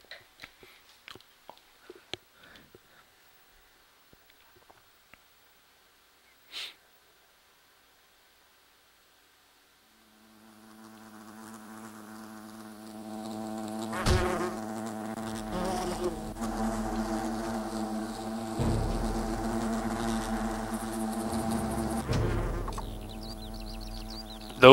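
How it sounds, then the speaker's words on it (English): Large wasps buzz in the video game Fable, a loud, continuous droning swarm that starts after about ten seconds of near silence and holds steady to the end, with no talking. "Those are some big wasps."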